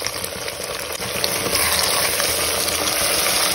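Curry leaves and tomatoes sizzle hard in hot oil, a loud, steady, crackling fry that builds a little and then holds.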